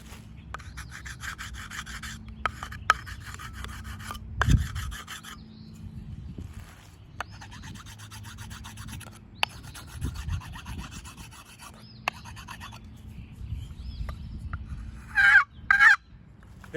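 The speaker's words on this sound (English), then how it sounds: "First thing you need to do is chalk your box really well." A stick of chalk rubbed across the lid of a wooden turkey box call, giving repeated close scraping, rasping strokes with a few light knocks and a short squawky burst near the end.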